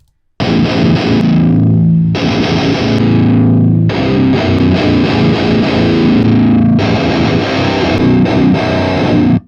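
Loud, heavily distorted electric guitar chords through an amp simulator, played in four sustained bursts with short gaps between them, no talking.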